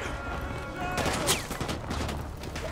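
Gunfire in the video game Call of Duty Modern Warfare 2 Remastered campaign, a short burst of shots cracking over game background noise, with a sharp loud peak mid-clip.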